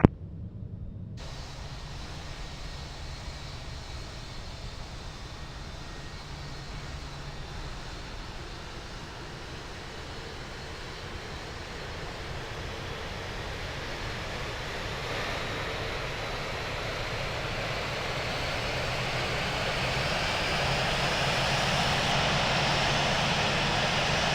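A LATAM Boeing 787-9 taxiing in the video game Infinite Flight makes a steady jet-engine hum and whoosh that slowly swells louder over the length of the clip, with no voices.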